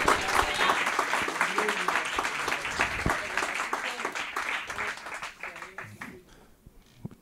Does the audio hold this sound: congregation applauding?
yes